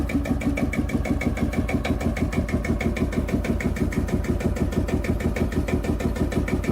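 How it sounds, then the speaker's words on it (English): A vintage hot bulb slow-speed diesel engine runs with an even, rapid chuffing beat, close and loud, each stroke a sharp repeated knock over a low rumble. "The engine operates on a slow-speed diesel cycle and uses a hot bulb combustion system."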